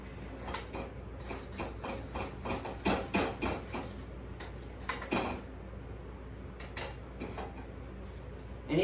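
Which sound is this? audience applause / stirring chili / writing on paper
stirring chili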